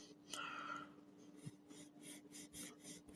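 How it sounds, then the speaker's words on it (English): A Delco Remy 10SI alternator rotor rubs lightly against its housing, giving a faint, close rasping scrape that repeats in short rhythmic strokes over a steady low hum. "You can just hear a tiny bit of rub."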